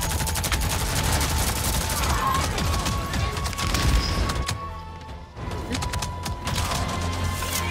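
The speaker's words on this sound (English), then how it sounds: "assault rifle's fun. Especially now that it's stronger." Assault rifle gunfire in Avatar: Frontiers of Pandora, rapid automatic bursts crackling loudly with impacts and crashes mixed in, one short pause partway through before firing resumes.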